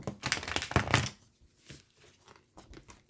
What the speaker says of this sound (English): This is a harder one to shuffle